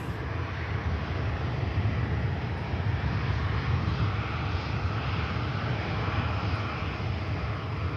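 A Boeing 787 Dreamliner turns off the runway at a rapid exit at Manchester Airport, its engines giving a steady, loud, close drone that holds without a break.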